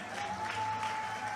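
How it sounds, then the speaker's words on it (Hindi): Clapping from a crowd at a Rajasthan political rally, a brief, fairly faint wash of many hands with a steady tone running underneath. "आप तो जोर से तालियां बजाने हमारे माता बहनों ने"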